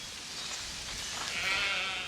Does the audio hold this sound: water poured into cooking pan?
no